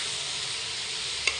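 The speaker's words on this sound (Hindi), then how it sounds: "ये देखो सब्जी छोंक दी है" Cabbage being tempered in a pressure cooker, a steady bright hissing sizzle of hot oil that holds evenly throughout, with a faint tap near the end.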